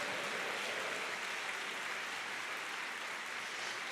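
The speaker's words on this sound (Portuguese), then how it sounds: "Você pode aplaudir o Senhor?" A church congregation applauding, a dense, even wash of many hands clapping at once that holds steady throughout at moderate distance.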